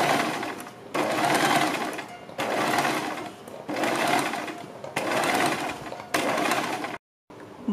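A sewing machine runs in bursts while stitching around a kurti neckline beside buckram, each run lasting about a second, with brief pauses between them and a short silence near the end.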